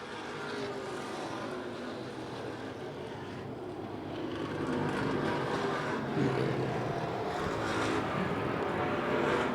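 Super Street race cars run on a track at Portland, a dense distant engine drone that swells slightly in the second half, with no voices.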